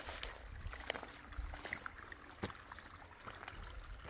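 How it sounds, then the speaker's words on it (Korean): A shallow valley stream with little water trickles faintly and steadily beside a countryside plot, with a few soft splashes and rustles over the constant low wash. "계곡물이 쫄쫄쫄 흐르는 소리도 나네요"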